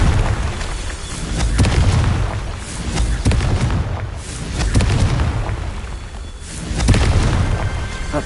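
Confringo blasting spells explode again and again in a wizard video game, loud booming blasts in rolling waves with sharp crackling bursts, about four or five heavy surges with no talking.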